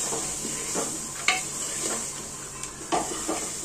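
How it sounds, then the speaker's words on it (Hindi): Chilli and rice roasting in a pan for a raw peanut pulao, stirred with a spoon: steady scraping strokes over a soft sizzle, with occasional sharp clinks of metal against the pan. "अब मैं इसको चलाऊंगी, सबको थोड़ी देर के लिए भूनूंगी।"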